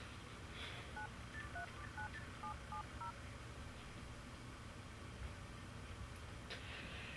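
Telephone keypad dialing, a quick run of about a dozen short DTMF beeps over a second or two, faint against a steady background hiss with no talking.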